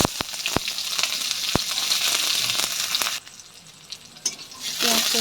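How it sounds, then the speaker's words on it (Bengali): Onions frying in oil in a pan with black cumin, dried chili and bay leaf. A loud, close sizzle with stirring scrapes and taps dips briefly before bursting back up. "একটু ভাজা করে নেব পেঁয়াজটা"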